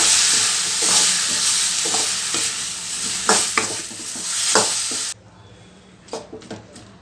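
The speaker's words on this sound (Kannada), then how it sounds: "ಅರಿಶಿನದ ಪುಡಿ ಮತ್ತು ಖಾರದ ಪುಡಿ ಈಗ ಇದನ್ನೆಲ್ಲ ಚೆನ್ನಾಗಿ ಫ್ರೈ ಮಾಡಬೇಕು" Spices fried with turmeric and chili powder for a paneer masala, a loud continuous sizzle with stirring scrapes that cuts off abruptly, followed by a few quieter clinks.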